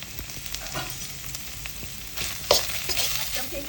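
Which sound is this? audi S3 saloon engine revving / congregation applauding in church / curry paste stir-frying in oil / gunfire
curry paste stir-frying in oil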